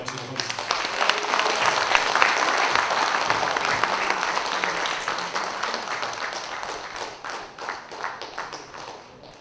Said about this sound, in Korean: 좋은 강의를 해주신 한명기 교수님께 다시 한번 큰 박수로 환호해 주시기 바랍니다